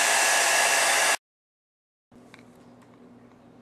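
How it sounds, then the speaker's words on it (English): A heat tool blows a loud, steady hiss for about a second while drying paint on a craft stamp, then cuts off into silence before faint handling noises follow. "now I want you to heat dry this with your heat tool"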